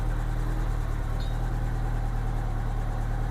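A 1987 Honda GL1200 Goldwing engine idles at about 1,000 RPM during carburetor adjustment, a steady, even, low rumble heard close by with no talking.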